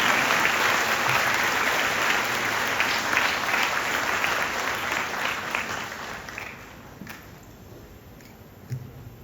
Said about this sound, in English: let's clap for all the children who are sitting here